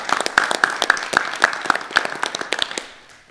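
A small group at a school district board meeting claps for district staff, a short burst of distinct, fairly close hand claps in an uneven rhythm that thins out and stops after about three seconds.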